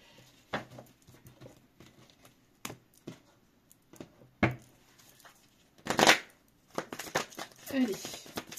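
Tarot cards shuffled by hand in brief, separated bursts of riffling and sliding, close and fairly crisp, with someone speaking between them.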